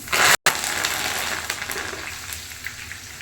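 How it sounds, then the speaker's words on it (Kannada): A handful of curry leaves drops into hot oil for a spicy avalakki mixture, bursting into a loud crackling sizzle after a brief gap and then settling into a softer, steady fry. "1 ಹಿಡಿಯಷ್ಟು ಕರಿಬೇವು ಹಾಕ್ತಾಯಿದ್ದೀನಿ"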